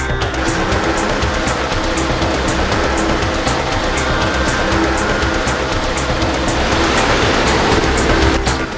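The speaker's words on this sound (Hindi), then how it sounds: "कई इंच मोटी दलदल की परत में गाड़ी आगे बढ़ने का नाम ही नहीं ले रही थी।" A car labours through thick mud on the road to Kedarnath, a loud, constant rushing engine roar mixed with splashing and churning, close and unbroken with no voices.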